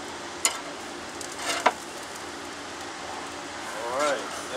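Meat sizzles on a grill during smoking as a steady crackling hiss, broken by a couple of sharp clanks near the start. Someone talks over it.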